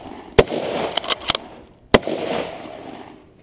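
Shotgun-style firearm fired during shooting practice at colored targets, two sharp, loud blasts about a second and a half apart, with smaller clicks of handling between them and a lingering outdoor echo.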